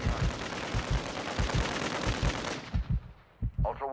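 Rapid bursts of automatic gunfire in a squad-based shooter video game, loud and close, with sharp repeated shots in a fast rhythm that break off near the end.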